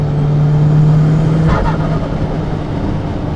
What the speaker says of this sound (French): avec le bruit du dump valve, écoutez. Là, j'accélère, je décélère.